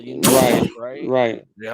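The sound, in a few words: a person sneezing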